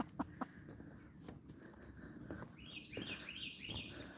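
A bird calls beside a river, a few bright chirping notes that come in quickly, fairly close but soft, over quiet outdoor ambience with light footsteps and faint rustling.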